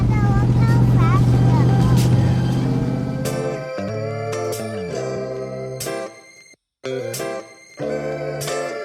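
A white car speeds past with a loud, rushing engine roar that fades over a few seconds, followed by voices talking nearby.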